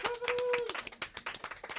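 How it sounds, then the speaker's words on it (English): A small group gives a brief round of applause, with scattered, uneven claps heard faintly while people talk over them. "Go on, give a round of applause."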